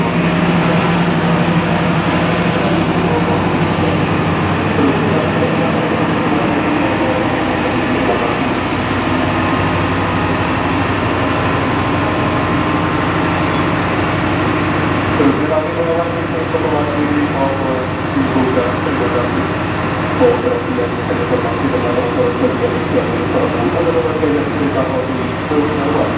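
Inside a moving Argo Dwipangga New Generation executive train between Solo and Jakarta, a steady low rumble of wheels and rail mixes with a constant air-conditioning hum, while a voice talks over it at times.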